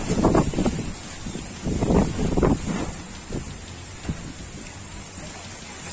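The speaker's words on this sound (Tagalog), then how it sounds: "napakalakas ng hangin ngayon" Strong typhoon wind roars in gusty surges against the microphone, swelling and easing in waves with a steady hiss underneath.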